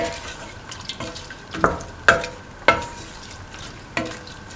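Stirring a mixture of rice, winter melon, tomato and green peas cooking in a pan, a soft sizzle underneath with several distinct scraping strokes of the spoon at irregular intervals.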